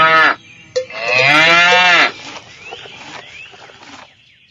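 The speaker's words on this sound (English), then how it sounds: "The cow." A cow on a farm gives a short low call and then one long, loud, close moo, followed by quieter rustling.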